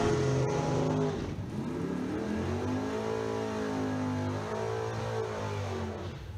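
At a drag strip, a rear-engine dragster's engine revs loud and close, holding a deep rumble with rising and falling revs throughout, no talk over it.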